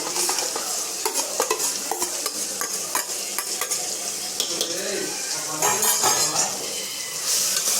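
Prawns with onions and tomato frying in a pan, a steady sizzle broken by repeated scraping and clinking of a spoon stirring against the metal, up close with no talking.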